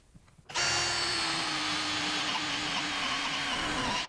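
A power drill with a hole saw cuts a 1¼ inch hole, starting abruptly after a quiet moment and running loud and steady for over three seconds with a constant whine before stopping.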